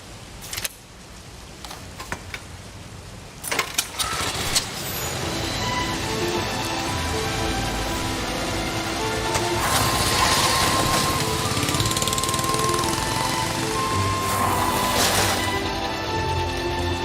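A motorcycle engine in Syberia: The World Before sputters and catches after a few clattering knocks, then settles into a steady, loud running drone that swells slightly midway, with no talk over it.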